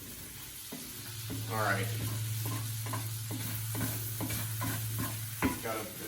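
Potatoes fry in a cast iron pan with a constant low sizzle, while a utensil scrapes and stirs in repeated strokes nearby. Someone briefly says a couple of words.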